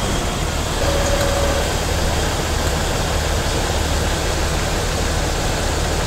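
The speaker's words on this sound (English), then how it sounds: "Now idle the engine." A steady, continuous engine idle with a low rumble and broadband hiss, holding an even level throughout with no speech.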